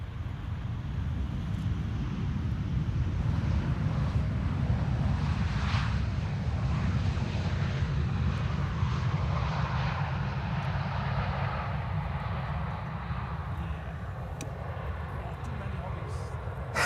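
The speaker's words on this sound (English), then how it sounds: "This is Transavia flight 6602 arriving from Innsbruck" A Transavia Boeing 737-800 arriving at Amsterdam Schiphol from Innsbruck rumbles steadily at a distance, a continuous low engine roar mixed with wind noise, while people talk.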